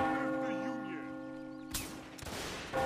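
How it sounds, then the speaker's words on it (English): A church bell in the Mount & Blade North & South mod rings with a sustained metallic hum, then sharp gunfire cracks cut in near the end of the short clip. "And there, of course, is the church bell."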